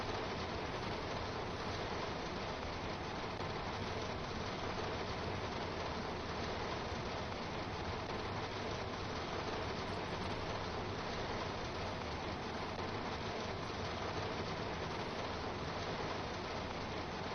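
Rain pours continuously over a train in a railway simulator game, a broad unbroken hiss holding level for the whole stretch, with no voices.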